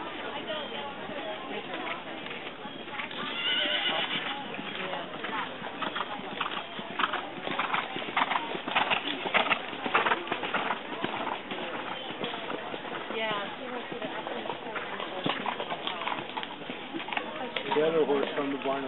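A horse at a hunter horse show in the short stirrup class moves with a steady clip-clop of hooves across the ring, and a voice talks over the rhythmic footfalls throughout.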